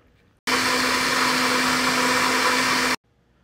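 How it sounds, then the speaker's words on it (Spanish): A blender whirs steadily for about two and a half seconds, blending a chamoy mixture of guajillo chile and raisins, starting and stopping abruptly with a loud, even motor roar and no talking. "Yo lo licué aproximadamente por 3 minutos para no colarlo"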